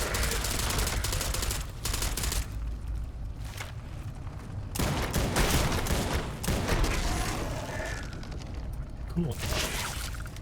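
Gunfire in the video game Starfield, with dense bursts of rapid shots and blasts running continuously and loud throughout, mixed with game effects.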